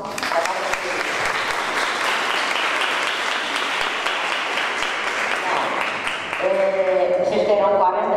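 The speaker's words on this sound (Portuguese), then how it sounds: "Palmas para você." Sustained audience applause at a conference talk, dense and steady from start to end, with louder clapping and whoops near the end.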